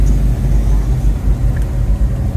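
A car drives along a rural Kentucky road, a steady low engine and road rumble heard from inside the cabin, continuous and fairly loud with no distinct events.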